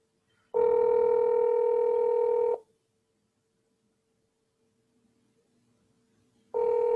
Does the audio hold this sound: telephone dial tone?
yes